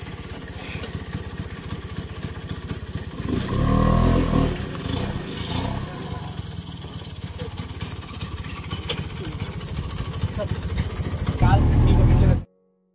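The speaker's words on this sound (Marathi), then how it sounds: "ही बघा रिक्षा आली" An auto rickshaw pulls up with its engine rumbling loudly and steadily, swelling as it draws near, while a voice talks over it and a constant high whine runs throughout.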